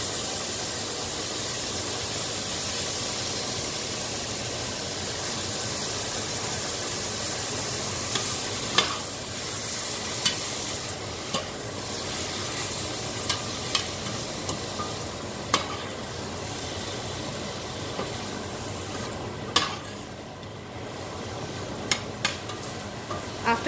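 Chopped tomatoes and split green chilies cooking in a pan for masala bhindi curry, a steady broad sizzle throughout with occasional sharp spoon scrapes and clinks in the second half.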